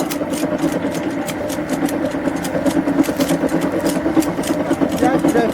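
A homemade chaff cutter, improvised from an old Soviet washing machine motor, runs steadily with a continuous mid-pitched engine-like hum and rattling vibration throughout, fairly loud and close.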